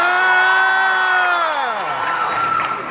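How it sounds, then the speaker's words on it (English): A convention crowd at a Megacon Orlando panel about Halloween Horror Nights 35 cheers loudly, with a sustained high whoop that slides downward and then fades into crowd noise. "Something tells me this crowd is familiar with Jack and Oddfellow"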